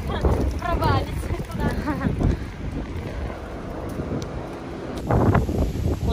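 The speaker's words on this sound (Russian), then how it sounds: "У нас такой сильный ветер" Strong wind buffets the microphone in loud, rumbling gusts while someone talks over it.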